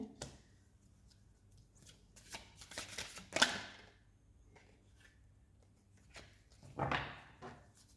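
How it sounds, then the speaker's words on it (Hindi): Tarot cards are shuffled by hand nearby, with soft riffling bursts and papery slaps in irregular quick flurries, alternating with brief quiet pauses. "एक और क्विक शफल।"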